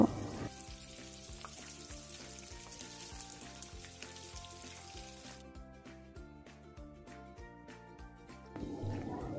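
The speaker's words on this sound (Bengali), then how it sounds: "এবার তেল গরম করে এই কোট করা চিংড়ি মাছগুলো ভেজে নিচ্ছি" Batter-coated prawns fry in hot oil with a steady bubbling sizzle running throughout, partly under rhythmic background music.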